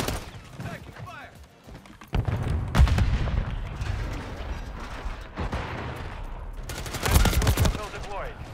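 Gunfire bursts in Call of Duty: Modern Warfare 3 multiplayer, with loud rapid volleys that crackle through the scene and peak in a dense burst near the end, over steady battlefield noise and faint radio-style callouts.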